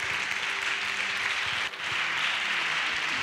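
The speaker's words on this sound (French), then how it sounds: "si quelqu'un veut applaudir, il applaudit." Congregation applauding during a church sermon, a steady wash of clapping at moderate level that briefly dips midway and then continues, with no voice over it.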